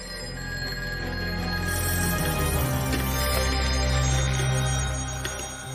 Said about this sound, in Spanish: El teléfono del sheriff Wilcox no dejaba de sonar.